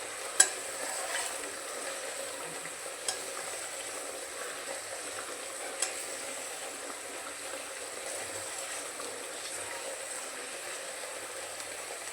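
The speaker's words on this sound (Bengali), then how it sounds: "এবার এটাকে ভালো করে কষিয়ে নিতে হবে যতক্ষণ আদা টমেটোর কাঁচা গন্ধ না যায়" Ginger and tomato sauté in a pan with a soft, even sizzle that runs throughout, and a few faint clicks come from stirring.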